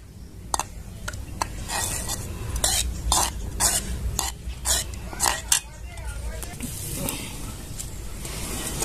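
A spoon scrapes and stirs steadily in a pan of sugar syrup with cardamom powder and saffron-orange colouring, rhythmic clinks against the metal over a low kitchen hum, close up.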